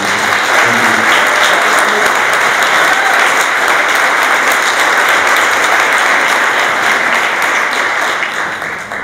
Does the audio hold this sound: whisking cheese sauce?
no